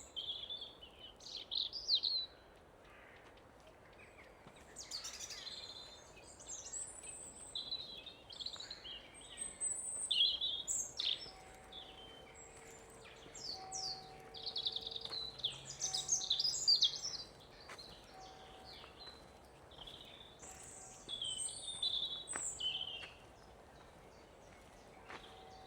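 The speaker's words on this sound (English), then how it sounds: "Isn't that bird song amazing?" Birds sing and chirp in a woodland in spring, with repeated bright calls and trills from several birds near and farther off, in bursts across a quiet background with no talk.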